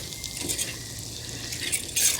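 Liver and onion gravy simmering in a pan outdoors: a steady, soft bubbling sizzle with faint stirring scrapes, continuous and close, with no talking.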